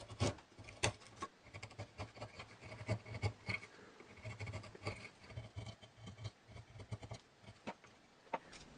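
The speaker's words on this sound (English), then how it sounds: "I need to carve a little bit out like this" Knife whittling a small wooden dowel to carve out a notch for a wooden air engine, giving close, quiet scraping and shaving strokes in irregular bursts with no talk.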